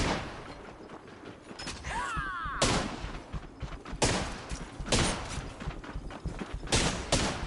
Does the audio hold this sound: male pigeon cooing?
no